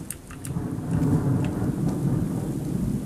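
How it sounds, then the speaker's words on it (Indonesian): Heavy thunder rumbling in a Minecraft forest world, a sustained low roar with rainy hiss on top and a few brief crackling strikes early on, steady and loud throughout. "Wah, suara petirnya ngeri, cuy."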